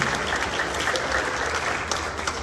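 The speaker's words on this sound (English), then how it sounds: "Can we have a round of applause for these little kids?" An audience at a school orientation held in a church claps for a group of little kids, a full, steady round of applause from many hands.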